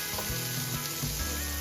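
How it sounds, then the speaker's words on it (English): Spices sizzle and fry steadily in a hot pan, a continuous crackling hiss with a few faint stirring scrapes. "We are just gonna saute"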